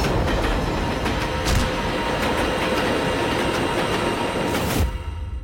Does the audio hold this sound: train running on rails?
yes